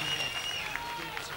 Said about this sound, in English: Give Big Charlie a big round of applause